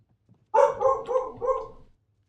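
A pet dog barks in a rapid burst of about four close, loud woofs, running together over roughly a second and a half before it falls quiet, with no one talking.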